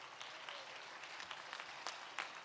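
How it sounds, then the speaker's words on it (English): An audience applauds contestants at an international auctioneer championship, a soft, fairly distant wash of clapping with a few sharper claps standing out, no voices. "Please give them a huge round of applause."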